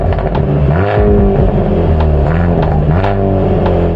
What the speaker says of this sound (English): a demon expelling exhaust